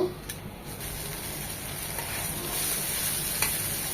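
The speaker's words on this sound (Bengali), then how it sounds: "এখন মশলাগুলো ভালোভাবে কষিয়ে নেব।" Spices frying and being stirred in a pan for a Bengali Tengra fish curry with drumsticks, a steady close hissing sizzle with faint stirring scrapes throughout.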